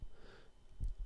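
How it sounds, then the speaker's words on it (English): A person gives a quick nasal sniffle, a short breathy intake followed by a low snort near the end, close and fairly quiet. "Sorry to sniffle."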